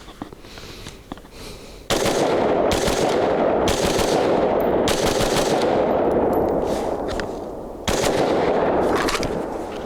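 Rapid bursts of rifle fire from an AR-style rifle fitted with a lightweight bolt carrier group, loud and close, with several strings of quick shots and brief pauses between them.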